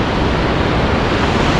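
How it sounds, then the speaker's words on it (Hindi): A fast-flowing mountain stream rushes between trees in a remote Ladakh valley, a steady, loud, close wash of water noise with no voices. "ये जो है इतना तेज़ पानी बह रहा है पेड़ों के बीच में से"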